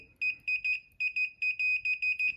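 Multimeter continuity tester beeping while probing an XLR cable, giving a series of short, bright, high-pitched tones in an uneven rhythm as contact is made and broken, close and clear.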